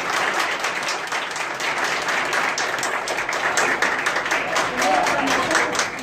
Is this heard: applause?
yes